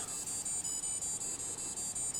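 A rapid, high-pitched electronic beeping from a Timex Atlantis Stranger Things sports watch alarm repeats in an even pulse, close and steady, with nothing else audible.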